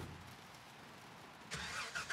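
A truck engine cranks and catches about halfway through, a short burst of starter and ignition noise rising out of a quiet background and settling into a brief idle.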